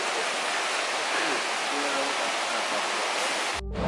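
Rushing stream water at a trail junction on the Smokemont Loop in the Great Smoky Mountains on a high-water day, a steady, loud broadband roar that fills the clip before cutting off abruptly near the end.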